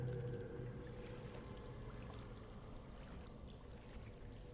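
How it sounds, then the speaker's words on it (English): Water laps and sloshes steadily as several people wade through a dark flooded tunnel, a dense continuous wash of splashing and trickling that stays close and even throughout with no voices. "You hear nothing but the lapping of water as you all trudge through,"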